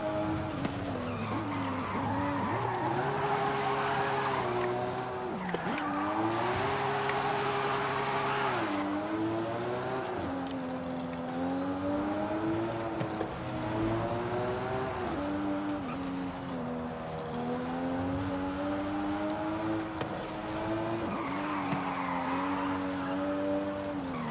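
Car drifting in Forza Horizon 5, likely a Nissan Silvia, with a steady engine drone rising and falling in pitch through gear changes and bursts of tire squeal and skidding, loud and continuous throughout.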